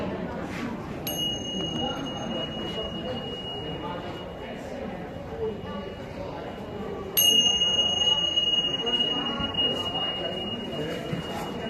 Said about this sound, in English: we'll do 3 times the Tibetan bells